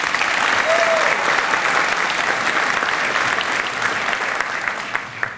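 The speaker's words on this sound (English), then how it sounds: "One more time, round of applause for Chief Diaz." Sustained applause from a large audience at a Houston Police Department cadet graduation ceremony, dense and steady, gradually tapering off toward the end.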